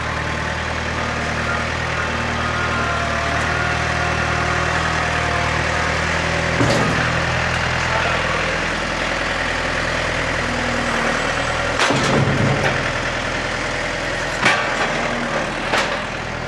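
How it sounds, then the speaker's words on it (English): Tractor engine running at a steady low idle, a continuous rumbling drone up close, with a few brief clunks and knocks over it. "We'll get the tractor moved."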